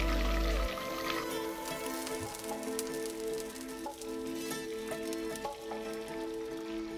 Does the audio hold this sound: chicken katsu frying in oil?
yes